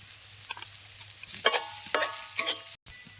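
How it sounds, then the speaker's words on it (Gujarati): Garlic and coriander go into a sizzling pan for a Kathiyawadi stuffed papad curry, with a steady fry hiss and several scraping stirs of a spoon, close up and alone. "હવે થોડુંક લસણ નાખી દઈએ. થોડાક નાખી દઈએ આમાં ધાણા સ્વાદ અનુસાર."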